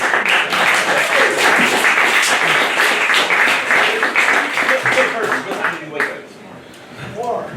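Audience at a jazz concert at the Louis Armstrong Center in Queens, New York, applauding the band with dense, sustained clapping and cheering mixed with crowd voices, tapering briefly near the end.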